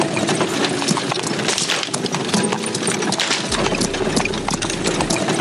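Horse hooves clip-clop as a horse-drawn cart moves along in a Minecraft PE transport mod: a steady, busy patter of hoof clatter over a low rumble, continuous throughout with no talking.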